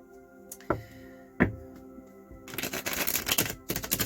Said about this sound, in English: Once again, I've already shuffled all of these cards.